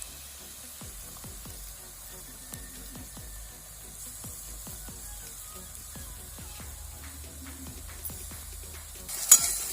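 Chili paste frying with roasted onion in a pan for zunka, a soft steady sizzle with repeated scraping stirs and a sharp clatter near the end.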